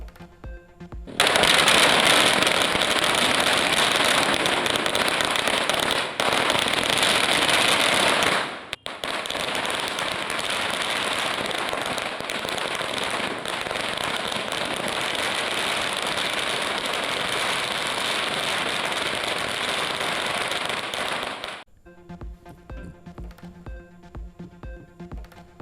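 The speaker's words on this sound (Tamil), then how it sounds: "சரவடி, மத்தாப்பு உள்ளிட்ட வண்ண வண்ண பட்டாசுகளை வெடித்து மகிழும் மக்கள்" Diwali firecrackers crackling in a long, dense, continuous string of rapid bursts, loud and close, with a brief break before the cracking resumes and then gives way to scattered quieter pops at the end.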